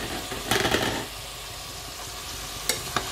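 Potatoes frying in hot oil with naga chillies, stirred in a pan: a steady close sizzle with a few scraping stir strokes near the start and two sharp clinks toward the end.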